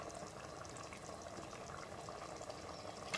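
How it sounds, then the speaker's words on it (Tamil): Tamarind water goes into a pot of simmering garlic kuzhambu, giving a soft, steady bubbling and liquid churn that holds at an even, moderate level throughout, with no one speaking. "இப்போ நான் கரைச்சி வச்சுருக்க இந்த புளித்தண்ணியை"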